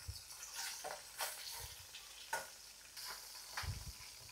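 Fresh river hilsa fish frying in oil in a pan, a steady soft sizzle with brief stirring scrapes and a few louder crackles, close and moderately quiet.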